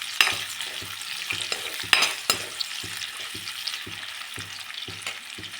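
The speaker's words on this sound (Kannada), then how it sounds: "ಎಣ್ಣೆ ಬಿಸಿಯಾಗಿದೆ, ಈರುಳ್ಳಿ ಹಾಕ್ಕೊಳ್ಳೋಣ." Onions go into hot oil for veg fried rice and sizzle steadily in a pan, with regular scraping stir strokes knocking against the pan at close range.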